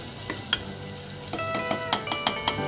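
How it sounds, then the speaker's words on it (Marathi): Chilli powder and garam masala sauté in hot oil in a pan for masoor dal amti, a steady soft sizzle punctuated by light clinks and scrapes of a spoon stirring, with no talk. "ते चांगले तेलात परतून घ्यायचे। जास्त परतले तर ते करपणार।"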